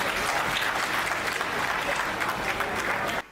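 Loud, sustained applause from the audience at a Hindi comedy poetry show, dense clapping that fills the whole stretch and cuts off abruptly at the end.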